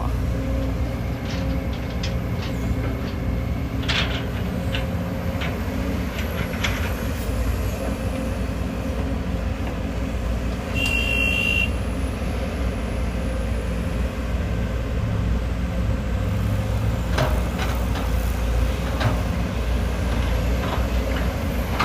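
A Sumitomo SH210F-6 excavator loads soil into a six-wheel truck at a large reservoir, a steady heavy diesel drone with hydraulic whine, clanks and a brief beep, continuous and fairly near.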